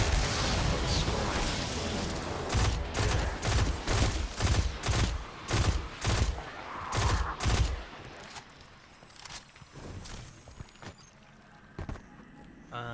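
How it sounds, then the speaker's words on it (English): Rapid bursts of weapon fire from the video game Destiny 2 rattle in quick succession for several seconds, loud and dense, then give way to quieter ambient game sounds with a few scattered effects. "Wow, what is shooting us?"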